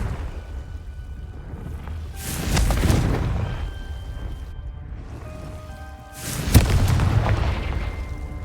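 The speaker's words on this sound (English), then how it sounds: "Confringo!" A fire spell in the Hogwarts Legacy video game detonates twice as booming explosions, each a loud burst trailing into a rumbling, crackling decay, with no voices.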